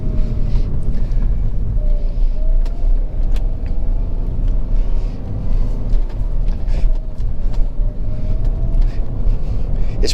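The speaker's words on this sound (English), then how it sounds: "The road noise in this is probably a little more than the Dodge. And I mean like tire noise." Constant low road roar and tire hum inside a Mini Cooper on the move, a steady broadband rumble with no talking.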